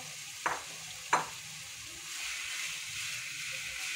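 Minced mutton keema fries in a masala base with a continuous loud sizzle, and two sharp spoon knocks against the pan come early as the mince is stirred, with no talking.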